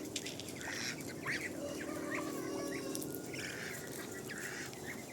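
Domestic ducks being herded back into their pen after feed was spilled, giving a steady mix of bird calls and clucking close by, with no talk over it.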